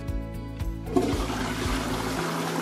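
A ceramic WC flushing during a splash test, water rushing into and swirling through the bowl after a rhythmic thumping intro, loud and close, with no talk.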